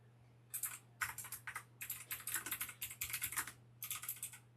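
Rapid clicking keystrokes on a computer keyboard come in quick bursts with short pauses, close by and fairly quiet over a steady low hum, with no talk.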